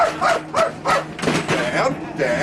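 A dog barks in short repeated yips and woofs outdoors, close and fairly loud, with people talking around it.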